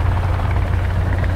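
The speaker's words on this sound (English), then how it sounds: "The helicopter noise." Steady, loud helicopter rotor thrum in the video game Sons of the Forest, with a deep rhythmic low-end chop and engine whine, continuous throughout with no talking.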